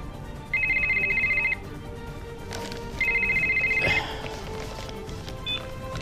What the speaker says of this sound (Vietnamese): tôi quên tắt chuông điện thoại